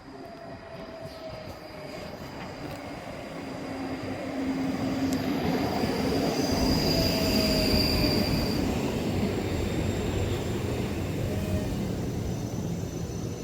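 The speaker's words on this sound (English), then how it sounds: "Departing out now is the 1421 Scotrail service from Helensburgh Central to Edinburgh Waverley." A six-carriage ScotRail class 334 electric train departs Edinburgh Gateway, its rumble swelling and holding loud with faint wheel squeal and whining tones, heard alone without speech.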